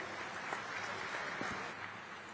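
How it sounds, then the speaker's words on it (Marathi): A crowd at a public political gathering claps in a dense, continuous patter that holds steady and then eases slightly toward the end. "जोरदार टाळ्या होऊन जाऊ द्या।"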